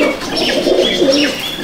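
A pure golden-bloodline female breeder pigeon coos in soft, repeated low calls that run steadily and close by for the whole moment, with no one speaking.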